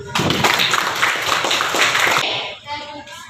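A group of children claps hands together in a classroom, a dense, lively patter of many claps that fades out near the end, with a faint voice afterward.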